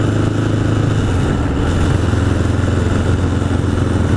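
A 1981 Honda CB750 Custom motorcycle engine runs steadily up close, with a continuous low, throbbing rumble and a faint mechanical clatter throughout, no voices over it.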